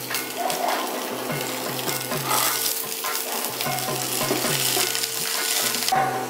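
Soaked raw peanuts fry in about three spoonfuls of hot oil, a steady dense crackle with repeated scraping stirs and a few sharper pops, fairly close and continuous throughout.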